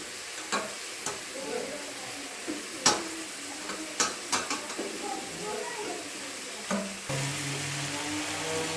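Potato pieces fry in a pan with a low sizzle while a spoon scrapes and knocks against the pan in scattered sharp taps, growing into a steadier hiss toward the end.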